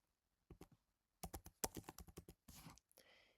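Keys clatter on a computer keyboard as text is entered into an Excel spreadsheet cell, in quick clustered bursts of clicks separated by short pauses, close and fairly quiet.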